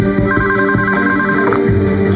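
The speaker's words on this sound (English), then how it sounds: "to make the sounds of the ringing come out more," Telephone ringing sound effect in a radio spot, a steady electronic ring with repeating tonal pulses, loud and continuous, without talk.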